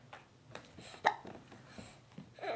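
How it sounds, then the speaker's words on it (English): A baby hiccups a few times, soft and close, with small squeaks and rustling from the infant lying on its tummy in between. "It's hard to do when you have the hiccups."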